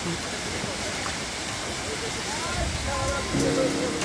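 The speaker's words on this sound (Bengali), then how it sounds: "মনোমুগ্ধকর ঝর্ণার আওয়াজ" Waterfall at Sitakunda, Bangladesh, a steady broadband rush of falling water filling the scene, with faint voices and a brief higher tone rising near the end.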